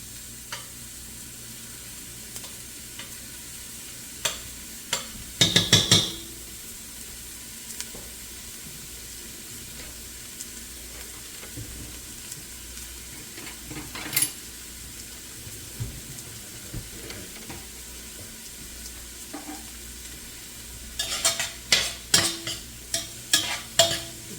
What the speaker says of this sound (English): Now, I'm gonna add my garlic.